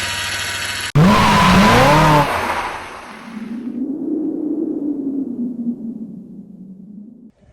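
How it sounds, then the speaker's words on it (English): A power steering pump whines on a 2004 VW Passat B5.5 with the engine running. A loud burst with a wavering whine comes first, then a softer, sustained whine that rises and falls before cutting off. "I got some noise coming out of the power steering pump."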